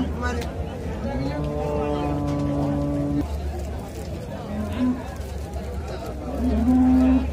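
HF dairy cows at a cattle market in Karungalpalayam, Erode, moo loudly and repeatedly up close over a steady babble of people talking.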